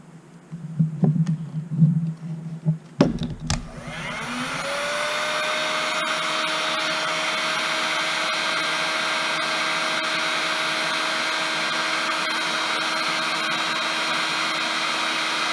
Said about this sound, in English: we're going to heat shrink it